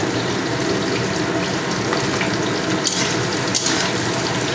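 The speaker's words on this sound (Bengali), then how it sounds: "তো গ্যাসের ফ্লেমটা আমি হাইতে রেখেছি তাহলে খুব তাড়াতাড়ি মশলাটা কষিয়ে নিতে পারবো" Masala sizzles and crackles steadily in hot oil over a high gas flame, a dense, constant frying hiss with a couple of faint sharper pops.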